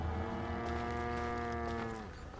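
A cow moos in a video game, one long, drawn-out bellow with a rich harmonic tone that lasts over two seconds before easing off, heard clearly on its own with no talking.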